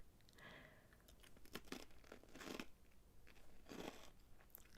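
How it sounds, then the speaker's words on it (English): Close-miked chewing and crunching of food in a quiet ASMR setting, with several crisp bites and moist mastication sounds spread across the stretch, intimate and alone without speech. "How loud is that chewing"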